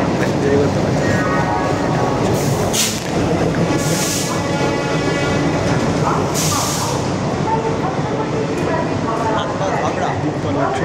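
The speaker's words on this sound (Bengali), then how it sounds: "ট্রেনটা দূরপাল্লার ট্রেন, এক্সপ্রেস ট্রেন।" A long-distance express train running from Howrah toward Asansol, heard from on board as a loud continuous rumble and rattle of wheels and carriages, with a few sharp hissing bursts.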